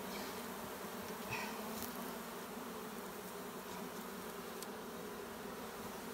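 A wild honeybee swarm that has recently moved into an abandoned top bar hive hums with a steady, dense buzz, continuous and close, with a few individual bees droning past nearby.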